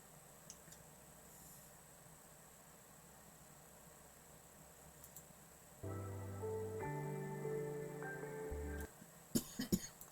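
A person coughs a few times in short, sharp bursts near the end, right after a brief electronic musical chime, over a quiet hissing room background.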